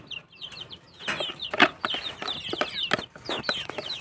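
Backyard pet chickens cluck and squawk while being fed leftover rice mixed with banana and scraps, several birds calling in quick irregular bursts close by, with brief rustling of wings.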